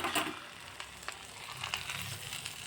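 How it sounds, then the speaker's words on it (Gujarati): A hot oil tempering poured over pav bhaji sizzles and crackles steadily, loudest at the first splash and then holding as a continuous hiss. "હવે આના ઉપર આપણે વઘાર રેડી દઈશું"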